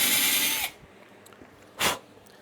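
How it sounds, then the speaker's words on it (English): Countersink drill bit boring a hole: a short, bright whirring burst that cuts off abruptly, then quiet, followed by one brief second burst of the drill, close and with no talk. "So I'm gonna drill my hole."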